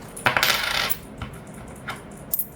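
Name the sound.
coins being handled and dropped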